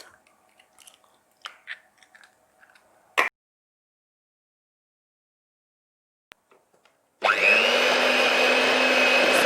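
An electric mixer beating eggs into chocolate banana cake batter starts abruptly after a few quiet clinks and taps, then runs as a loud, steady whir close by until the end.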